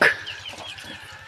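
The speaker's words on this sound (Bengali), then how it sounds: "হাঁসগুলা কত সুন্দর খাইতেছে" Several ducks cluck softly in a quick, steady rhythm while feeding in the evening, close by, with a brief louder squawk at the start.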